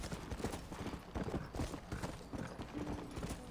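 Rhythmic clip-clop of a video game horse's hooves trotting, steady and close, a game-like loop of hoofbeats continuing throughout without speech.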